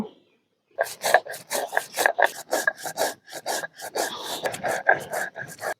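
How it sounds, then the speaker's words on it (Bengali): Coriander, ajwain and fennel seeds ground together by hand in a village kitchen, a quick rhythmic scraping and rubbing of stone on stone, close and busy after a short silent start, with no talking. "ধনিয়া আন্ধনি তারপরে মৌরি সব একসাথে বেটে নেব"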